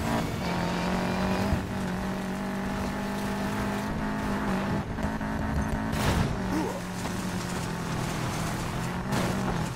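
Racing car engines roar continuously in Need for Speed Payback during an off-road race, a loud sustained drone with shifting pitch as the throttle stays open, punctuated by brief gear-change dips and rival cars nearby.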